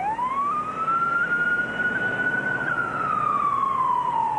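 An ambulance siren wails in one long rising and falling sweep, loud and steady with no talking over it.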